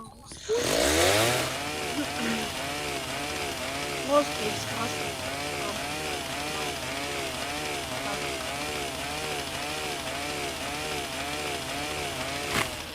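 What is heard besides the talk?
chainsaw in a video game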